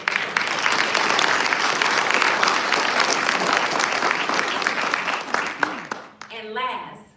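Audience applause at a congressional district state-of-the-district event, steady and sustained for about six seconds before fading out as a voice begins to speak.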